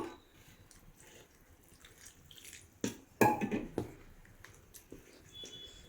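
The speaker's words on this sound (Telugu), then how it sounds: "కొన్ని నీళ్ళు పడతాయండి, కొన్ని నీళ్ళు పోసేసుకుందాము." Hot water is poured into flour for crispy pappu chekkalu dough, a brief splash and trickle midway through an otherwise quiet stretch of faint drips.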